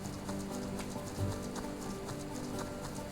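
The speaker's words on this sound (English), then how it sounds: "Ah, blessed rain. Good for the crops." Steady rain patters in a farming video game, a dense even hiss with soft repeated clip-clop footsteps and occasional sharper taps throughout, no voices.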